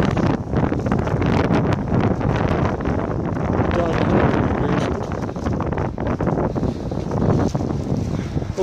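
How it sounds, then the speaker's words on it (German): Loud wind buffets the microphone outdoors on a blustery February day, a steady broadband roar with gusting swells that runs unbroken throughout, with no talk over it. "Weil die Tage ist der Wind ja so laut."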